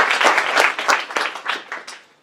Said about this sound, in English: Please give her a applause.